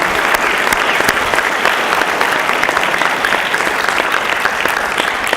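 Loud, continuous audience applause at a university diversity forum following a spoken word performance, many hands clapping in a dense, even wash with no talking over it.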